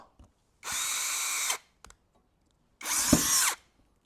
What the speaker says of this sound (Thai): ใส่ดอกไขควงเข้าไป ขันไขควงต่อ